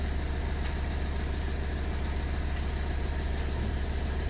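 A BMW 120d with the N47 diesel engine idling while the car shakes, a loud close steady low rumble with an even throbbing pulse and no voices over it.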